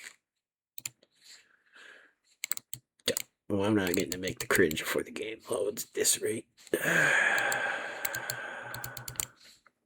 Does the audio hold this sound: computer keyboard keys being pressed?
yes